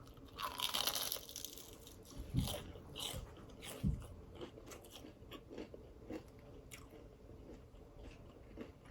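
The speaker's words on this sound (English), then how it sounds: "It's crunchy." Crispy fried chicken wings with hot sauce are bitten and chewed close to the mic, with a few sharp crunchy bites followed by softer, steady chewing, quiet and without talk.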